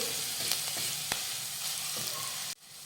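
Steady sizzling and crackling of green chili-ginger paste in a hot pan, with a few sharp clicks of a spoon stirring, then the sizzle cuts off abruptly near the end.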